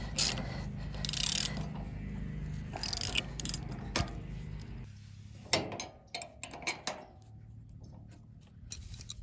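Hand tools work on a go-kart's steering mount, tightening bolts through a newly drilled mounting hole: scattered ratchet clicks and metallic clanks, several sharp close taps in the second half, over a low steady background hum.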